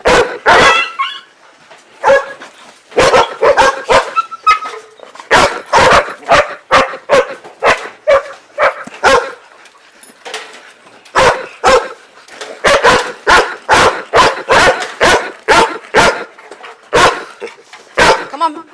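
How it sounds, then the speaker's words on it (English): Dogs, including a puppy near a door, bark and yip loudly and close by in rapid, irregular bursts, with short pauses between clusters of barks. "Oh, there's a puppy by the door there."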